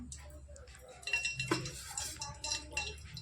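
A spoon clinks against a small pot as two spoonfuls of oil go in to temper plain dal, with a few close, light metallic taps and scrapes over a quiet kitchen background.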